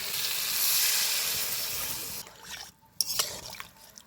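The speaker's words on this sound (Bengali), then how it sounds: "এবার দিয়ে দিব জল।" Water tipped into a fish curry of talkorma fish and drumstick stems, a loud, steady close pour for about two seconds that stops abruptly, followed by quieter bubbling and a few clicks.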